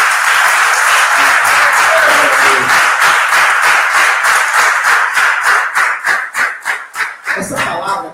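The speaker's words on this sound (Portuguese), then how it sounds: "Se você puder aplaudir o Senhor Jesus mais uma vez." A church congregation at a celebration service gives loud, close applause that settles into rhythmic, unified clapping toward the end.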